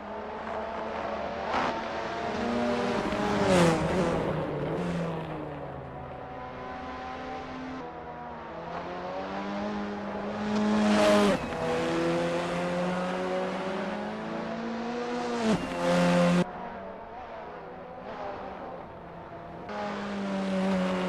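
Tatuus F3 T-318 single-seater race car lapping Estoril in Assetto Corsa, its engine rising and falling through repeated gear changes, sharp revving upshifts and downshifts heard up close and continuous, with no talk.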